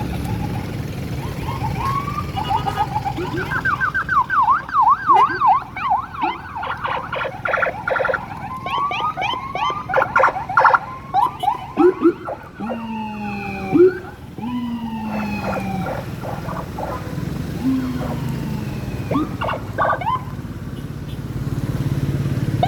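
Convoy of officials' vehicles passing along the newly opened Padang–Sicincin toll road during its trial opening, with siren-like rising and falling wails and rumbling traffic among a crowd of onlookers.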